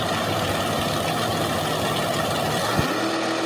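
Drag racing cars idling and revving at the start line at a raceway, a '69 Camaro with a 582 big block and a '75 Monza with a 388 small block, a steady loud engine drone that drops off near the end.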